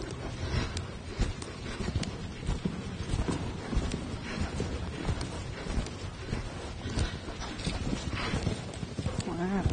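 A horse canters in a dressage arena, its hooves beating a steady rhythmic clip-clop with soft thuds and some background rustle, while a voice talks over it.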